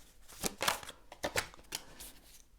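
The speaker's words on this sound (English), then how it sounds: "I'm gonna shuffle and see what the cards have to say" Tarot cards being shuffled by hand, a series of crisp papery riffles and flutters in uneven bursts, close and fairly quiet with no talking.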